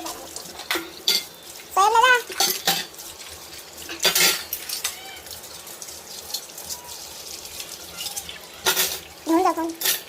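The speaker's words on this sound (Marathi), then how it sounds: "आता भांडी घासते तू." Dishes and cutlery clatter and scrape in a home kitchen sink under running tap water, with repeated sharp clinks and bursts of splashing and scrubbing at close range.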